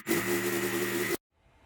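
Processed 808 bass layer run through the Devious Machines Texture plugin: a loud, sustained tonal drone with stacked harmonics, holding steady for just over a second before cutting off abruptly into near silence.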